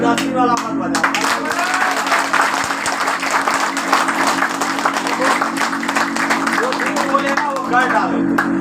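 A seminar audience at a business talk claps steadily and densely throughout, a continuous wash of applause with a low hum underneath.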